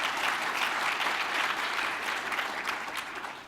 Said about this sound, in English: all of the undergraduates in that room applauded that response just like you did